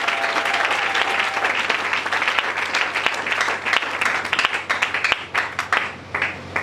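A church congregation applauds loudly and continuously, with a dense wash of clapping that gradually thins into scattered individual claps toward the end.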